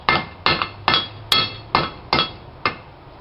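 A hammer strikes metal while a hook is forged, seven sharp ringing blows in a steady, evenly spaced rhythm, close and loud.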